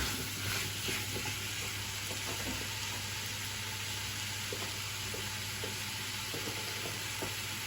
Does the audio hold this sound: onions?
yes